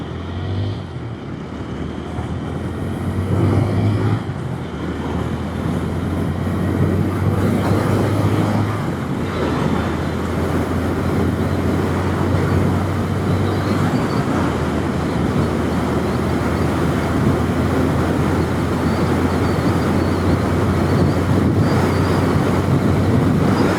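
TVS Apache RTR 160 4V motorcycle ridden in urban mode, a steady low engine drone with a few shifts in pitch beneath heavy rushing wind noise, continuous and loud throughout with no talking.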